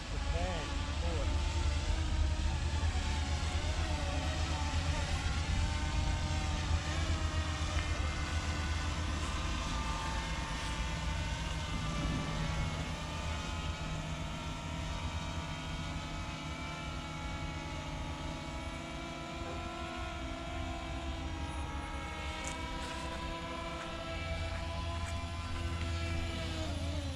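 A small consumer drone flying back toward its pilot outdoors in Villa Carlos Paz, Argentina, giving a continuous high buzzing whine of propellers that holds steady throughout, moderately loud, with wind noise.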